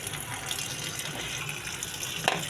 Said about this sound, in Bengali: কচু শাকের পাতাগুলা ধুয়ে নিব।